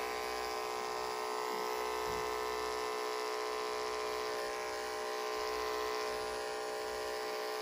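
Electric clippers trim the ear hair of a Chinese Crested dog during grooming, a steady close motor buzz with a high-pitched whine, running continuously with no talking.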